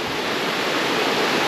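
A waterfall near Stone Hill Resort in Dabong roars as a steady, close, full wash of falling water with no voices.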